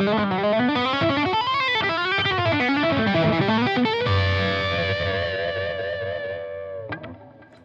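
Electric guitar through a Brunetti Mercury 50W amp head with its boost engaged, playing a smooth, sustained lead tone with fluid bends and runs, then holding a ringing note that fades with slight echo.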